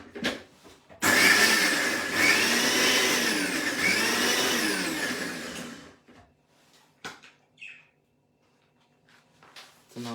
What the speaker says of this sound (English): I'll be using my mixie.